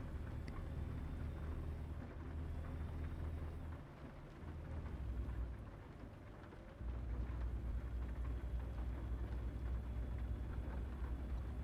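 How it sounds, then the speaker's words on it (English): Rain and thunder in the American Truck Simulator video game, a steady rushing downpour with low rumbling that dips briefly and swells again, continuous and fairly quiet. "Oh, wow. It is raining."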